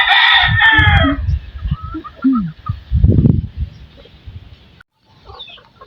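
Hens and a rooster call out in a loud burst outdoors at feeding time, then scattered clucks and low chicken sounds follow, with a brief silent gap near the end.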